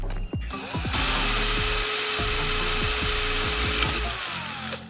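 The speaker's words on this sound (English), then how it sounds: "Drill a hole in the side of the plastic bottle, just big enough to fit the tire valve snugly." A power drill whines steadily as it bores a hole high on the side of a plastic bottle near the neck, a loud continuous motor tone with brief rumbling bumps at the start and end.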